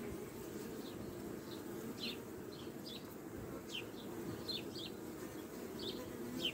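Faint, steady hum of many honeybees buzzing at a hive under a constant low rumble, with occasional brief chirps from birds in the background.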